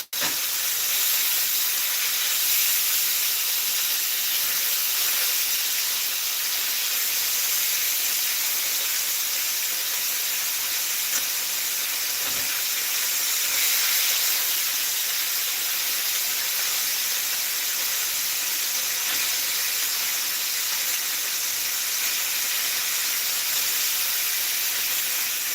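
Pork chops sizzle steadily in a hot pan, a bright continuous hiss with faint crackles that stays even and close throughout, with no voices.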